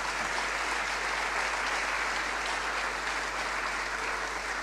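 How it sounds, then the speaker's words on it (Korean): Sustained, dense applause from a congregation at a Korean church ordination thanksgiving service in Saigon, steady and even from start to finish with no talking over it. "우리 박수 한번 해주시겠습니다"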